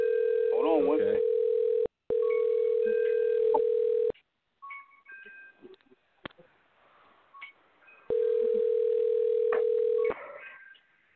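Outgoing phone call ringback: steady tone bursts of about two seconds separated by short gaps, loud and close, with muffled voices and rustling in the pause between rings.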